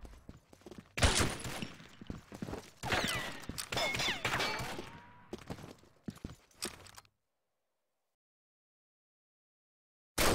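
Gunfire crackles in a shooter video game, with rapid bursts of close, sharp shots over several seconds that then cut off into silence before a final brief burst.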